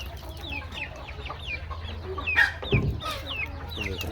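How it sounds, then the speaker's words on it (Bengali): Native hens cluck and trill in a nearby farm flock, a steady stream of short calls with a couple of louder squawks midway. "বাড়িতে দেশি মুরগির খামার করেছি দেশি মুরগি ফার্মি মুরগি"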